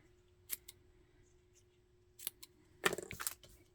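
Small scissors make a few quick, crisp snips through paper while cutting button tags in a quiet room, with short bursts separated by pauses and a louder cluster of cuts at the end.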